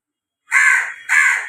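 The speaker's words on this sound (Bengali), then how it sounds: "এই দেখো আমার কাকটা, দেখো এসে কা কা করছে" A crow gives two loud, harsh caws close by, each about half a second long with a short gap between, standing alone with no other sound.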